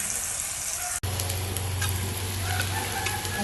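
Hot tempering oil poured onto horse gram curry in a clay pot, beginning with a sharp splash and then a loud, steady crackling sizzle that continues.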